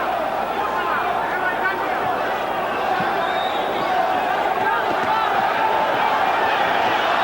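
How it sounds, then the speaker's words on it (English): Arena crowd at the Julio Cesar Chavez vs Kostya Tszyu boxing fight, a constant loud roar of spectators that swells slightly toward the end, with scattered shouts and thuds within the din. "the crowd goes insane with every punch"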